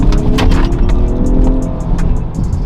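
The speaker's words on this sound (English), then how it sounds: "that engages the V6 at full force with the hybrid at the same time" A 2021 Porsche Cayenne hybrid's V6 engine pulls hard under acceleration in its sport drive mode, with the hybrid system assisting, producing a loud, steady engine roar heard from inside the cabin.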